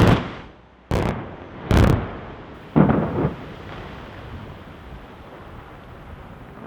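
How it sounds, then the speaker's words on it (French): Explosive charges blasting a rocky spur to cut a 5 km emergency road, the RS 1091: three sharp, loud detonations in quick succession, each booming and then rumbling away into a long, noisy decay. "Le minage de l'éperon rocheux représentait à lui seul 200 tirs de mine répartis sur 3 mois"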